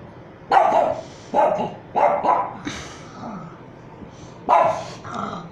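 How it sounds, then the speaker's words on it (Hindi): A dog barks indoors in a home, giving several gruff barks and growly yips in uneven bursts, fairly close and moderately loud, with quiet pauses between them. "देखिए वो तो भौंकता भी है"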